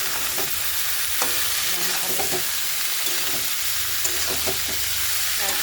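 Potatoes sizzle steadily in a hot pan, a constant crackling hiss with occasional scraping stirs and clinks of a utensil.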